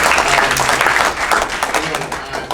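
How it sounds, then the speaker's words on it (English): An audience at a Republican committee Second Amendment assembly applauds in a dense, continuous burst of clapping, with voices mixed in among the crowd. "we can applaud that if we want to"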